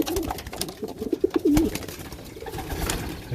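Pigeons coo near the feeders at a pigeon loft, soft repeated throaty coos over faint outdoor background noise.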